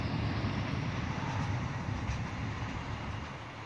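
A train drives through, producing a loud, broad rumble up close that slowly fades over a few seconds, with no voices.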